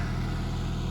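A Kioti tractor engine idles steadily on land being cleared, a constant low rumble with a strong regular throb, close and loud, with no voices.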